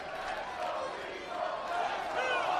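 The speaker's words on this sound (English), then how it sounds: "The crowd split here in Vegas." Wrestling arena crowd in Las Vegas at a Ring of Honor title match, split in support between Jay Lethal and Will Ospreay, producing a steady roar of mixed chanting and yelling that swells toward the end.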